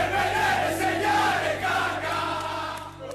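Milan fans in a stadium chanting Kaká's name in chorus, a big sustained crowd song with rising and falling melodic lines, loud and continuous.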